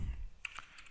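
Quiet, close clicking of computer keyboard keys as C++ code is typed: a brief burst of a few soft keystrokes within a second, alone and low in level.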